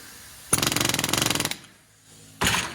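A pin is knocked through metal on a 1969 Mustang rear differential: rapid, rhythmic metallic hammering for about a second, a quick burst of repeated impacts, followed by a pause and then a short loud broadband hiss.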